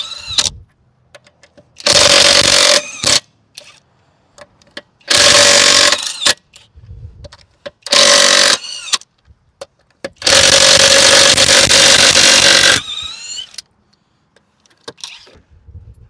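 Bursts from a SNUOK 1838 1/2 inch impact wrench working lug nuts: four loud hammering runs of one to three seconds each, the last and longest, separated by quieter clicks and handling noise.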